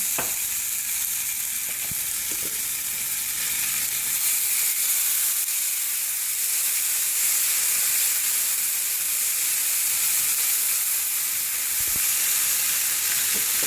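Eggs frying in a buttered pan, a steady bright sizzle and hiss lasting throughout, with an occasional faint tap of a utensil.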